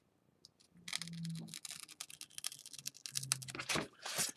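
An X-Acto knife cuts halfway through a thin piece of wood for a model bridge, producing faint, close scratching and clicking strokes in irregular quick bursts over a quiet background.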